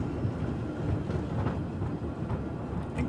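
A tram rolls along a motorway's outside lane at about 35 mph in the Tram Simulator Urban Transit game, giving a steady low rumble with faint rail clatter throughout and no talk.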